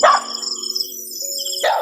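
A dog barking outdoors with a few short, fairly loud barks, one at the start and another near the end, separated by a steady tonal background hum with no talk.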